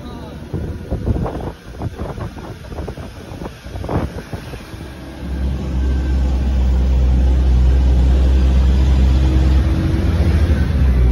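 Loud wind buffets the microphone on a moving truck travelling from Guwahati to Dimapur, building into a constant low roar of rushing air and engine rumble after a few seconds of gusty noise.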